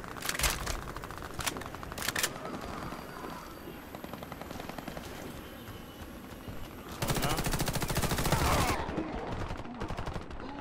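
Rapid gunfire from the Warface shooter game crackles in bursts, with a dense sustained stretch of shots near the end, under a voice talking over the game.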